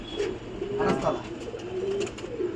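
Pigeons perched beside a 28-storey building in Batanagar coo nearby in soft, low, rolling calls that repeat every second or so over faint background noise.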